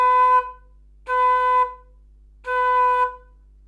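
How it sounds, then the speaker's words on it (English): Three short flute notes, each cut off abruptly by the tongue rather than fading, played solo and close with brief silences between them. "If I was to stop the end of the note, it would sound like this."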